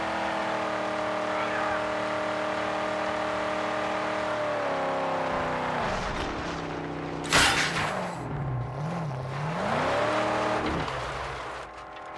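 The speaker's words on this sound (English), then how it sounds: "but I can appreciate the sound of a good engine" Roaring V8 car engine in the Mad Max video game, a loud continuous drone whose pitch dips and wavers, broken midway by a sharp crash-like burst.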